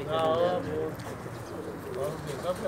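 Pigeons coo on a rooftop loft, a few soft warbling calls near the start and again toward the end, with people talking in the background.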